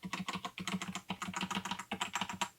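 Rapid typing on a Cherry XTRFY K33 compact keyboard with soft, silicone-feeling keys, a steady run of close, muffled keystrokes with no voices.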